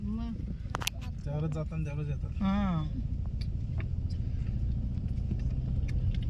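Heavy traffic streams along a crowded road near a village temple, a steady low engine rumble running throughout. Someone talks over it at the start.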